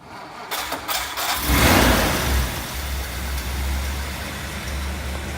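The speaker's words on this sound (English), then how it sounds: "Dominic, start the engine, please." A 1957 Ford Thunderbird's 312 V8 engine cranks briefly, catches with a loud roar, then settles into a deep, rumbling idle.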